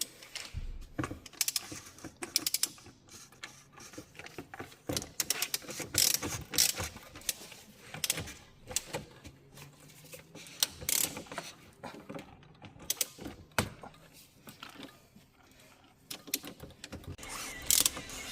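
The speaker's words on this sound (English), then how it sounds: "And needs to tighten the ratchet, flexi ratchet." Flexi ratchet clicking as it tightens the oil filter housing on a 2019 Mercedes C200d diesel, a dense run of close, sharp pawl ticks in irregular bursts, no talking.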